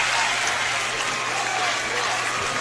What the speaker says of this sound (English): This crowd's loud.